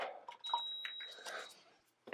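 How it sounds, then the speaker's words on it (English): A 3D printer gives off a thin, high, sustained beep for about a second, layered over soft nearby clatter and handling noises. "Got some stuff on the printer. Beeping at me."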